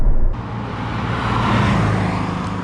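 Engine and exhaust of a 2021 Porsche 718 Boxster T with a six-speed manual, heard while driving as a steady, loud low drone that swells slightly, with road noise throughout and no talk.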